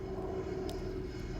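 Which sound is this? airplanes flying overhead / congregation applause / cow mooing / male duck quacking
airplanes flying overhead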